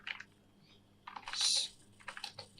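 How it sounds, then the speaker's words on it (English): Bursts of typing on a computer keyboard as scores are entered into a spreadsheet, with short clusters of quick, close key clicks separated by brief pauses. "we want to type in the scores for each and every one of the subjects"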